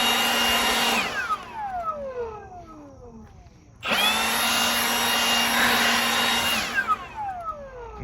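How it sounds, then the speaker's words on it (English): A leaf blower runs in two loud bursts, blowing lawn debris off pavement back onto the grass, whining up to full speed, then winding down with a falling pitch before starting up again. "grab your leaf blower"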